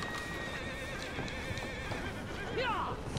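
A horse in the video game Red Dead Redemption 2 gives a clear, wavering neigh near the end, with hoof clip-clop and game ambience underneath.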